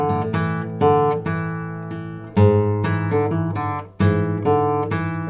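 Bossa nova melody played low on a solo guitar over chords, plucked notes and chord strums with clear attacks and ringing sustain, close and alone with no voice.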